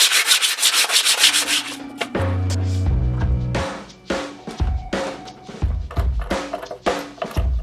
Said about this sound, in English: on the inside here, just sand down everything